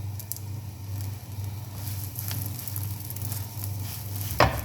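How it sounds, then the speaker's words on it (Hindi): Bread fries in a frying pan with a teaspoon of hot oil, making a continuous close sizzle with a low hum underneath and one brief sharp scrape near the end. "अब हमारा ऑयल गर्म हो चुका है तो हम इसके अंदर ब्रेड रख रहे हैं।"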